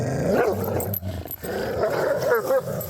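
A dog tugs and shakes a toy, growling and barking in short bursts up close, with loud rough snarls through most of the stretch and a brief lull in the middle.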